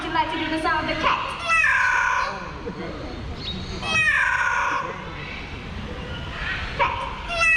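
Parrot imitating a cat's meow during a bird show at Jurong Bird Park in Singapore, giving a few drawn-out, rising meow-like calls against outdoor crowd murmur.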